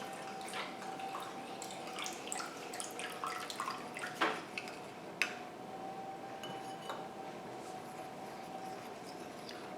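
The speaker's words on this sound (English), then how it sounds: "just put the water little by little." Water is trickled little by little into egg replacer, giving soft drips and faint splashes with a few light clinks of utensil against a bowl, over a quiet steady room hum.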